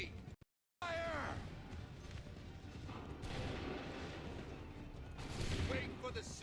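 Musket volleys ring out in the Assassin's Creed III battlefield: a sharp cracking fusillade after a brief dropout, then sustained rolling gunfire and battle noise, with a shouted voice near the start.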